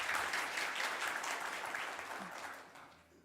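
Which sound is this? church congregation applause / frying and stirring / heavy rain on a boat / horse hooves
church congregation applause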